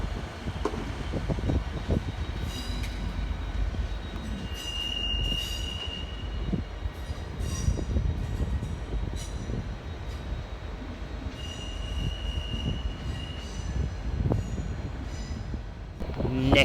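A Transport for Wales Class 150 passenger train pulls away from Cardiff Central station with a low rumble and wheel noise, brief high squeals of wheels on rail, and faint voices nearby.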